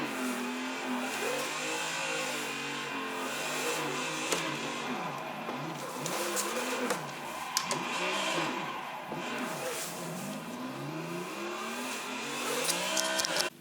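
A drifting car in Assetto Corsa revs hard, its engine pitch sweeping up and down in repeated waves as gears shift, loud and close with tire noise layered on top and no talking.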